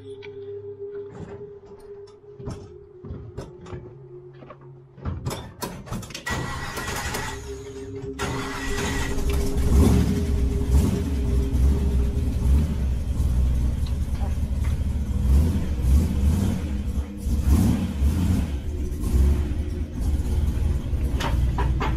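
A rat rod car cranks and fires up, the engine catching after a few seconds and settling into a loud rumbling idle with revs rising and falling, while people talk nearby.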